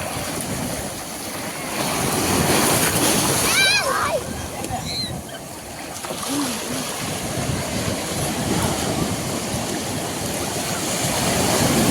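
Sea waves at Koduru beach wash and splash nearby in rolling surges, with breezy surf noise and scattered voices of people at the shore heard under the water.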